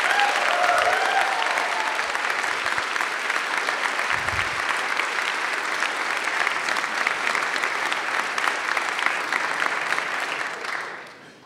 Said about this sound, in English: so give them a big applause as well.